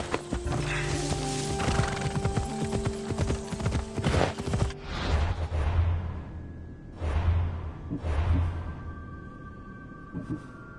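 A horse galloping in Assassin's Creed Odyssey, with fast, loud clip-clop hoofbeats and a whinny in the first half, followed by a slower run of heavy thuds with mechanical clicks.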